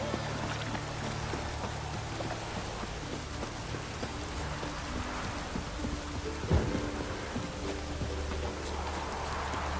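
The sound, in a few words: rain and thunder in video game Witcher 3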